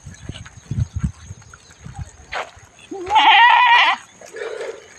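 A goat gives one loud, drawn-out bleat close by while being taken out to the fields, calling for its kids left at home, after a stretch of quieter scuffling.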